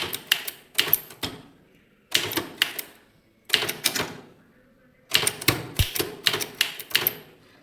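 Typewriter keys clatter in quick bursts while a legal letter in Tamil is typed on a manual typewriter, with short pauses between groups of strokes; the sound is close and crisp, and no one speaks.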